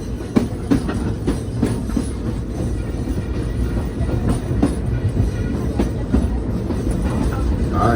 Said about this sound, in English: I hear the train a-comin'